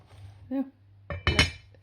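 A cooking pot of bacon and cabbage is slid across a stove ring to the back burner, giving a few close metallic clinks and scrapes over a low kitchen hum.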